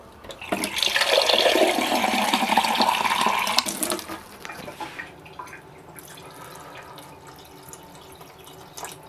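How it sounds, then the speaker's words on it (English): Water is poured into a pot of pumpkin stew, a loud splashing pour for about three seconds that then drops to a quieter bubbling and trickle. "I am going to add a little bit more water."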